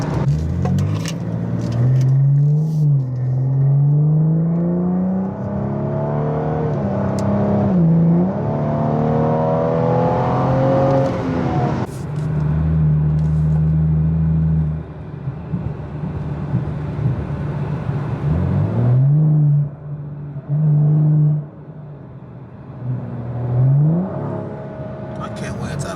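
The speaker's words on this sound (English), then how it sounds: "I just want to hear the turbo." Exhaust of a BMW 435i with a catless downpipe and muffler delete, revving repeatedly with rising and falling engine pitch, loud and close, with brief pauses near idle between pulls.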